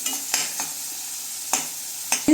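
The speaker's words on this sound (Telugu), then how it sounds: "ఇవి ఫ్రై అవుతుంటాయి." A kilogram of prawns fries in hot oil, a loud close sizzle punctuated by several sharp spoon-and-pan scrapes at uneven intervals, with no talking.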